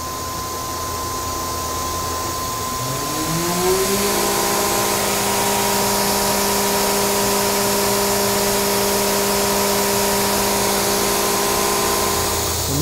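A Makino SNC 64 CNC machine with a 15,000 RPM spindle runs nearby, its steady whine climbing in pitch over a few seconds, then holding as a loud, constant tonal hum, with no talk.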